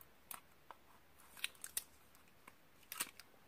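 Scissors snip through a beauty box package in a few sharp, separate cuts with soft crinkling between them, close by and fairly quiet, with no talking.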